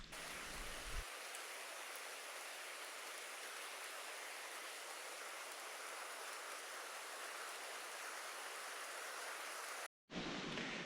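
Rain falls steadily through the foggy Čergov primeval forest, a dense, even hiss that fills the scene with no talk, then cuts off abruptly near the end before resuming briefly.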